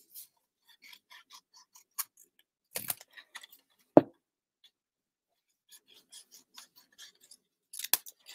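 Scissors make scattered crisp snips through paper, cutting pieces on an angle for a craft project, with short isolated clicks and a sharper cut near the middle.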